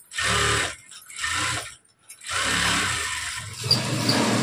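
Sewing machine stitching the front panel of a blouse, running in several bursts separated by short pauses, close and fairly loud, with no talk.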